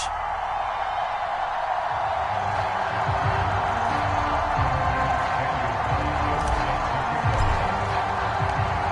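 Simulated stadium crowd from an EA Sports football video game, with a Baltimore Ravens home crowd, gives a continuous, moderately loud wash of cheering and murmur with no clear peaks.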